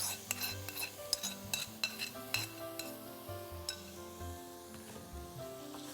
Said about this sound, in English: Next, we're going to add in this marinated chicken.